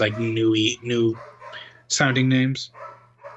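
Dogs bark loudly in two close bursts of yelps and barks, with a person talking over and between them indoors.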